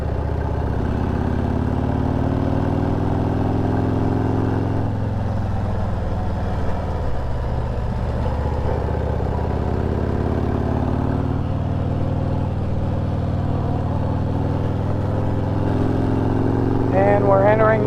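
A vehicle engine drones steadily while climbing the Mt Greylock Scenic Byway toward the summit, a continuous low hum with gently shifting pitch throughout and a brief voice near the end.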